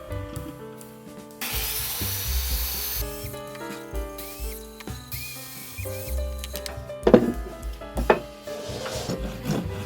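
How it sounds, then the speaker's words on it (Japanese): A power tool cuts a handmade wooden mug in a workshop. Bursts of loud, rough buzzing and grinding come and go over the clip, with tonal whine and a couple of sharper knocks near the end. "なるべく機械でカットできる部分はカットしておきます。"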